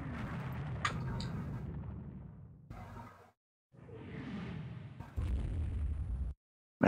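Naval shells strike a warship in the naval strategy game Rule the Waves 2, with several booming impacts and whooshing blasts separated by short silences, loud and close, with no talk over them.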